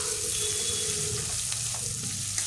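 Three bay leaves and a teaspoon of cumin seeds fry in hot oil with chopped chilies, giving a steady, close, even sizzling hiss that holds for the whole stretch with no voices.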